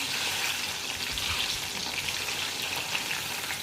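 Loitta fish fries in a hot pan with a dense, even sizzle that stays loud and steady throughout, with no talking.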